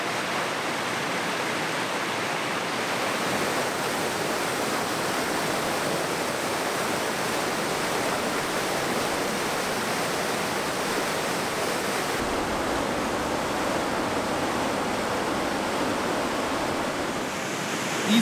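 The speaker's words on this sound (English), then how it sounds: "so we just arrived at another beautiful waterfall here" Waterfall on a remote Arctic watershed river, a steady, dense roar of rushing water that stays loud and unbroken, with no voices.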